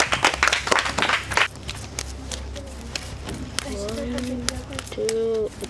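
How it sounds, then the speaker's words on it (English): Trivia contestants clap for each other in a short burst of applause at the start, followed by quieter footsteps, room noise and voices speaking. "You can clap for each other."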